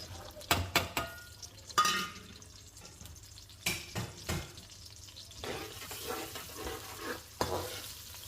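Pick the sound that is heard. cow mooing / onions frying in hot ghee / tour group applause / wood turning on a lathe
onions frying in hot ghee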